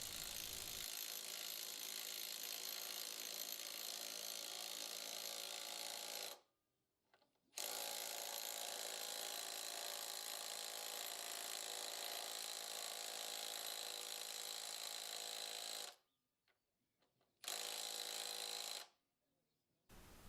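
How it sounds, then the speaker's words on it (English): A Milwaukee M18 Fuel second-gen 1/2-inch impact wrench drives large lag screws into wood in long, loud, continuous rattling hammer bursts, stopping sharply three times with brief silences between runs. "here we have it driving some larger lag screws so you can see how it performs"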